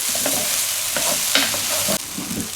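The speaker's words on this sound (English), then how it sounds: "we're gonna let this cook down a little bit more" Creamy garlic chicken with rough-chopped garlic sizzles steadily in a pan, a continuous close frying hiss broken by a few scraping stirs, with no voices.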